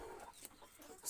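Chickens on a poultry farm housing over 150 birds cluck briefly, a short faint burst of clucks over a quiet background.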